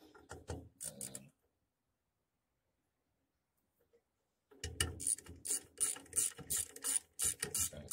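Ratchet tightening the oil pump bolts on an AMC 360 engine, star pattern: a quick burst of close, crisp clicking, a pause of silence, then a longer run of loud rapid ratcheting strokes.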